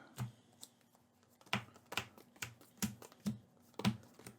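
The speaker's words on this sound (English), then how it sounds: "I'll shuffle these up." A Marvel Champions encounter card deck being shuffled by hand, heard as a series of short, crisp riffling bursts and taps spaced irregularly, quiet and close with no talk.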